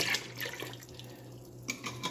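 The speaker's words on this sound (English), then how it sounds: "fill it up with a little bit of water. Put the lid back on. Just give it a quick shake." A bottle partly filled with water is shaken to rinse it out, giving a brief run of quick watery sloshes and splashes close by, moderately faint, with no talk.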